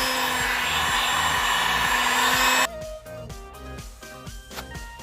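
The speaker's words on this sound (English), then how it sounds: "Now I'm going to use the heat gun to dry it" A heat gun drying screen printing ink runs as a steady, loud blowing roar for about two and a half seconds, then cuts off, leaving quieter tonal background sounds.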